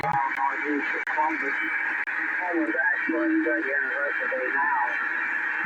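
Steady static hisses continuously from a DX394 radio receiver with an MLA 30+ antenna while a faint, garbled voice-like signal drifts in and out beneath the noise.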